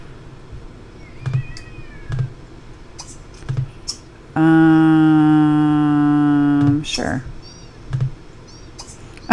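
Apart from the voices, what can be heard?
cats meowing in a video game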